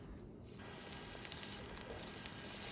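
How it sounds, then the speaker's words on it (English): Pork belly skin sears in a Staub cast-iron cocotte, a steady bright sizzle starting after a brief quiet moment and holding evenly, with a few small crackles. "I'm gonna sear the skin here first."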